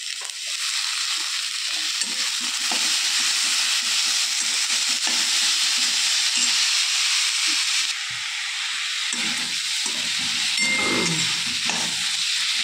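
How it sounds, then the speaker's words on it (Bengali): Chopped banana flower frying with salt and turmeric in a pan, a steady broad sizzle running throughout with intermittent scraping stirs, fairly loud and close, no voices. "হলদিটা দিয়ে একটু নাড়াচাড়া করে তারপরে এবার আমি মোচাগুলো দিয়ে দিচ্ছি।"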